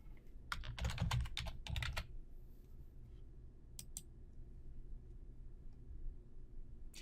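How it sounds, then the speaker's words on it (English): Quick run of keystrokes on a computer keyboard as a password is entered, a dense burst of clicks, then a few isolated taps, faint and close, with no speech. "Select Amanda and enter your password."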